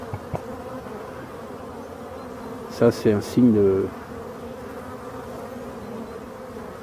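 Young honeybees on their first flight at a busy apiary drone in a soft, continuous buzz, with a brief louder burst of nearby wingbeats and a short spoken remark over it.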